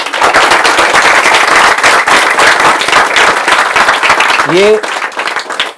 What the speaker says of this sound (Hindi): ये आप एमएलए के लिए तालियां बजा रहे हो